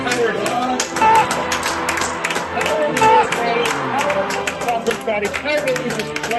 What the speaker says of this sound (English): Do you see how these locals are clapping that she shut the public comment section down?